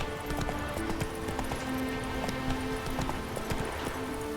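A horse gallops in the video game The Witcher 3, its hooves pounding in a quick, steady clip-clop rhythm close by, with game sounds and occasional faint voices underneath.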